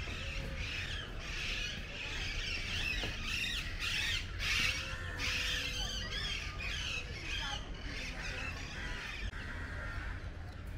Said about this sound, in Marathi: इथे बघा सुंदर पक्ष्यांचा आपल्याला आवाज येत आहे.